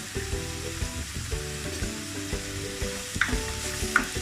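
Prawns sautéing in a pan with salt and turmeric for a spicy cassava masala: a steady, close sizzle and crackle with scraping stir strokes and a couple of sharper clinks near the end, no voices.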